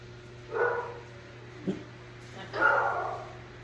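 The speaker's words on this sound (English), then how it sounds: "a dog in our front room alerting if someone's here or not" A dog in a home's front room barks in alert: one bark, then a brief sharp yip, then a longer bark, moderately close over a steady low hum.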